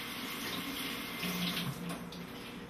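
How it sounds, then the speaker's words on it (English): Water running steadily from a kitchen sink faucet while greens for a smoothie are rinsed, a close continuous splashing stream with slight shifts as the leaves move under it, no talking. "So I'm just going to go over to the sink real quick and rinse off."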